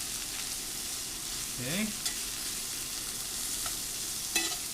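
Onions and ginger stir-fry in butter in a pan with a soft, low sizzle and occasional scraping of the spatula; a single word is spoken briefly.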